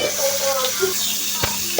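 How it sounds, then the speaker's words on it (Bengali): Hilsa fish frying in a pan on a home gas stove, a steady close sizzle with light stirring clinks and a couple of brief knocks. "ইলিশ মাছটাও ভেজে নিচ্ছি"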